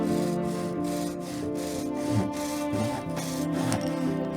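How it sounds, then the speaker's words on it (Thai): A Japanese hand saw rasps through wood for kumiko pieces in steady back-and-forth strokes, close and fairly loud, with a low hum underneath. "เลื่อยได้เลยนะครับ"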